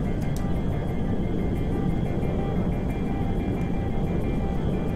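An Airbus A380 in the GTA 5 video game flies with a steady, loud, unbroken jet engine roar and a low rumble, struggling to climb, with no voices over it.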